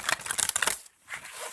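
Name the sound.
shuffling large, thick, stiff tarot cards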